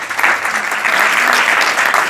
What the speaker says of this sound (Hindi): जोरदार तालियां हो जा